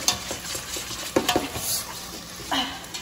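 Spaghetti sauce being stirred in a pan, a soft scraping and clinking of utensil against cookware over a light sizzle, with a few sharper knocks and no talking.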